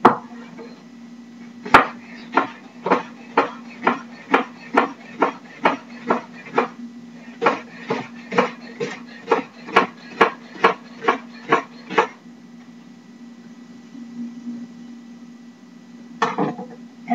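A knife finely slicing leeks on a cutting board gives a steady run of crisp, evenly paced chops, close and clear. It pauses briefly, stops at about twelve seconds, then returns with a short final burst.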